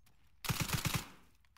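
A short burst of about five rapid gunshots during combat, loud and close, then a decaying echo and quiet.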